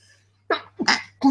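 Two or three quick sneezes in close succession, sharp and close, with a faint hum in the background.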